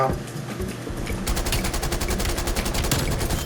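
Rapid automatic gunfire in multiplayer Call of Duty: Black Ops Cold War, starting softly and then turning into a loud, steady burst of repeated shots that runs to the end, with faint talk mixed in at the start.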